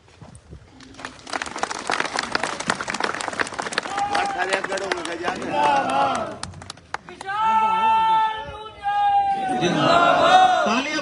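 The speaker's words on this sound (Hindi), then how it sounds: "तालियां बजाओ भाई" Crowd at a farmers' rally in Sisauli, Uttar Pradesh, claps steadily to welcome guests being honoured, a dense patter of many hands with voices and chatter rising over it toward the end.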